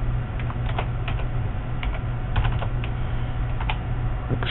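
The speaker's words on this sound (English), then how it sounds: "Maybe I will type in" Someone types a name on a computer keyboard, giving irregular quick key taps, close and fairly crisp, over a constant low background hum, with no speech.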